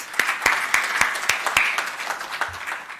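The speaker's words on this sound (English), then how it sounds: "I think that requires a louder round of applause." At a management convention, a hall audience gives brisk applause for three seconds, with a few sharp, loud individual claps standing out over the steady patter.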